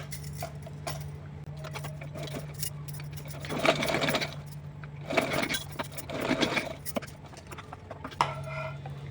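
A sewing machine stitches lace onto a small dress for a Laddu Gopal figure, a soft hum under the whir of the needle running in several short bursts.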